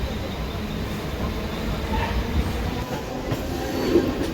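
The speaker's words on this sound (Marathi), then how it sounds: "तर आता पनवेल स्टेशनमधून ट्रेन सुटते" A local train pulls out of Panvel station, a steady low rumble of wheels and carriages with faint rail clatter, heard from on board and continuous throughout.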